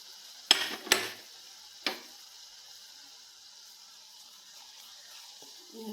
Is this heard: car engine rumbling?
no